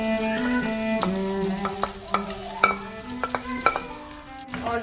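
Onions fry in a tablespoon of ghee in a pan that was just used for frying fish, for Kerala-style fish biryani. A soft sizzle runs beneath repeated close stirring scrapes and clinks, with no talking.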